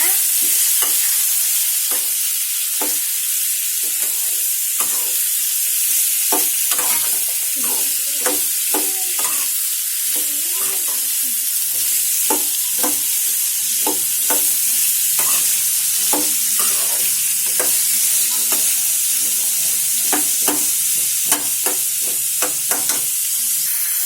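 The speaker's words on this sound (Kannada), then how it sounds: "ಈಗ ಸಣ್ಣದಾಗಿ ಹೆಚ್ಚಿರೋ ಸೀಮೆ ಬದನೆಕಾಯಿ ಹಾಕೋಣ. ಈಗ ಇದನ್ನ ಮಿಕ್ಸ್ ಮಾಡ್ಕೊಳ್ಳೋಣ." Finely chopped chayote frying with turmeric in a pan makes a loud, continuous hissing sizzle, with many irregular scrapes and taps of a stirring spoon against the pan, close up and without speech.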